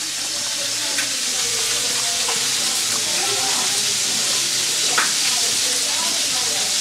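Garlic frying in hot oil gives off a steady, close hiss and sizzle that stays level throughout, with a few brief louder pops.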